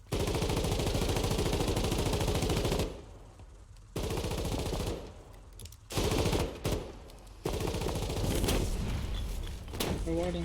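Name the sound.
gunfire from a video game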